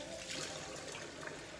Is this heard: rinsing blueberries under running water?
yes